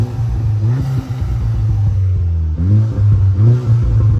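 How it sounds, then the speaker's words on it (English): Stage 3 VW Polo GTI engine droning up close, with repeated rising rev swells from the air intake and short breaks where the blow-off valve vents between pulls. "And listen to the air intake, as well as the blow-off valve."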